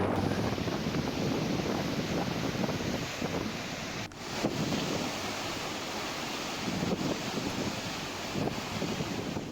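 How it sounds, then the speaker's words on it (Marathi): Heavy rain driven by stormy winds in Buldhana, Maharashtra roars as a dense, continuous wash with loud wind buffeting the microphone and a few brief gusty dips. "बुलढाण्यामध्ये वादळी वाऱ्यासह मुसळधार पाऊस बरसलेला आहे."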